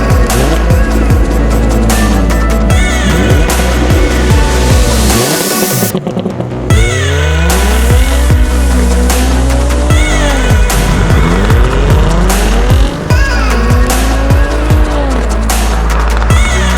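Jaguar F-Type V6 coupe, British Design Edition, driven on the road. Its engine is loud and close, pitch repeatedly climbing and dropping through gear changes, with a brief lull near the middle and no talking.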